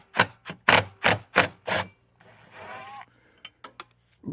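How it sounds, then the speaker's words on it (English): An impact wrench rattles off 9/16-inch bolts on the gas tank of an old John Deere compact tractor, six sharp hammering bursts in quick succession, then a brief mechanical whir and a few lighter clicks, close and loud. "We're just gonna use the impact for this one."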